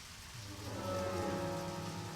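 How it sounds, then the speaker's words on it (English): Steady rain from the video game Deadly Premonition, a soft, continuous patter that swells slightly partway through and carries on evenly with no voices. "Yeah, it's still raining too."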